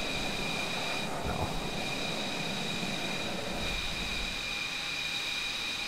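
Steady roaring F-22 jet engine drone with a high whine in Microsoft Flight Simulator 2020, continuous and even throughout, no voices.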